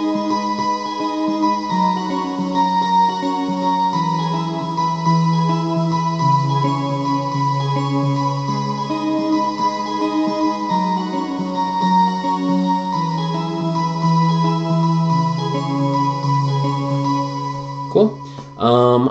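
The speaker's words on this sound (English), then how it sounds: "I have kind of a sound effect on my keyboard right now." An electronic keyboard with a bright, processed tone plays a steady flowing passage of chords and melody for a long stretch.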